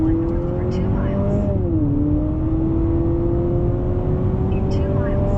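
A 2023 Honda CR-V Hybrid accelerates in sport mode, its steady engine drone dipping briefly and then climbing in pitch over a constant bed of road rumble.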